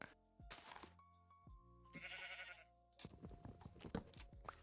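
Minecraft sheep bleat in short, wavering cries, several calls spaced across a few seconds, close and clear with light game sounds between them.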